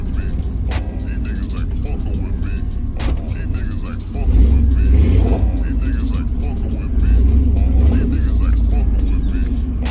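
A truck on new rims drives along, its engine and road noise a steady low rumble that swells and settles as it moves, with voices talking over it inside the cab.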